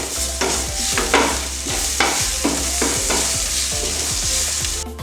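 Ginger garlic paste sizzling loudly in a hot pan while being stirred, a steady frying hiss broken by regular scraping strokes of a spoon, close and continuous, made for chicken spring roll filling.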